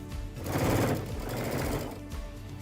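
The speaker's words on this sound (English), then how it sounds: "now I'm going to stitch as close as I can to that piping" Sewing machine stitching close along the piping of a lumbar puff pillow, a rapid, loud mechanical whir of needle strokes that swells in the middle and eases off, with no voices.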